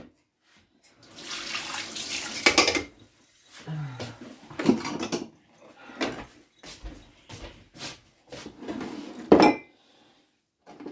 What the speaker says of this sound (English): Then I have some dishes to do.